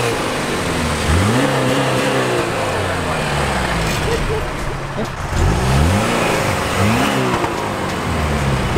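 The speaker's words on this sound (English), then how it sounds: "This is what my car sounds like." A street-racing car's engine revs hard several times, the pitch climbing and falling in repeated surges. It sits close and loud over steady rumbling background noise.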